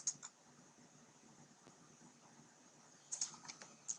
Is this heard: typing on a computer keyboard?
yes